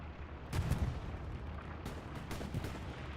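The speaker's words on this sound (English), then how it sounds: "More artillery just shredding bodies here." Distant artillery fire in a Hell Let Loose online battle, a few dull booming thumps with sharp cracks amid steady battlefield rumble, fairly faint and without speech.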